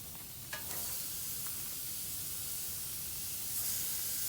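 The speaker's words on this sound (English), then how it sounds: "Yes, that is sizzle." Burgers sizzle on a hot grill with a constant, even hiss and a couple of faint pops near the start.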